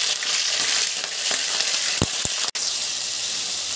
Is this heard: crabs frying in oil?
yes